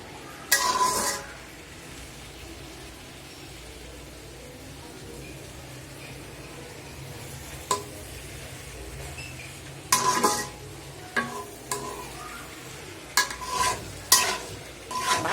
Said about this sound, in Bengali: ভাজা ভাজা করে ভাজবো।